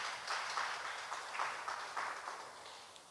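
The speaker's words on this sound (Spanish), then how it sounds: "Dale palmas al Señor, hermano." Church congregation clapping during a Spanish-language sermon, a dense, fairly steady patter of many hands from across a large room, moderately loud and fading slightly at the end.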